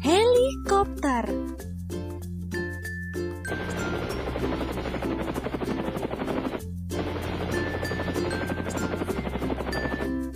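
A helicopter's rotor chops in a fast, steady, loud rhythmic thudding that runs for several seconds with a short break, after a brief opening voice and a few tones.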